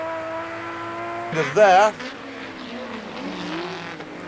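Touring race cars, a Nissan on Yokohamas and a Ford, run in a wet race at Zolder, with a quiet engine drone, a brief loud burst of revving and tyre noise as front wheels lock, under a commentator's talk.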